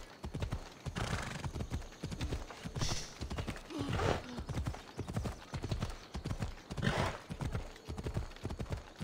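Horse hooves clip-clop at a steady gallop rhythm through the whole stretch in Assassin's Creed Odyssey, loud and close, with occasional whinnies and a voice talking over the top.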